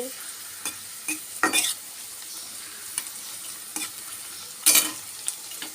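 Garlic fries in hot oil with a soft, low sizzle, punctuated by a handful of sharper spatula scrapes and clinks spaced irregularly across the stretch, close but fairly quiet.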